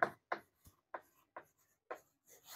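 Chalk or marker writing on a board during a chemistry lesson, a series of short, distinct scratchy strokes in an uneven rhythm, close and faint, with no talking over them.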